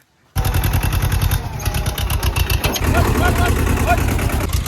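A loud new tractor engine, stuck in mud, chugs steadily in rapid pulses up close, starting abruptly after a moment of silence.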